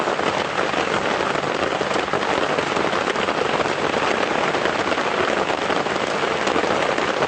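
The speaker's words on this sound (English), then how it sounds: "so once the rain subsides" Heavy rain pours down during a morning safari drive at Djuma Game Reserve, a loud, dense, unbroken patter drumming on nearby surfaces.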